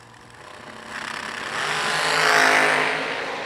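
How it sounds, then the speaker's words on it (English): A pair of supercharged dragsters on a drag racing starting line build into a rising, roaring engine swell that peaks then eases slightly, loud and fairly near. "A pair of supercharged dragsters here on the starting line."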